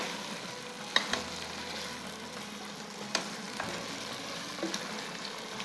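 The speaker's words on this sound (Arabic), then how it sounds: "كي يتقلى مليح البصل" Chopped onions fry with meat, cumin and ginger in a pan for Moroccan harira soup, giving a steady close sizzle broken by a few sharp clicks of stirring.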